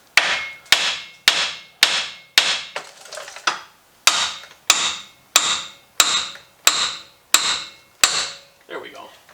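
Hammer blows strike the sides of a 2008 Chevy front axle: about a dozen sharp, close metallic hits in a steady, even rhythm, each ringing briefly before the next.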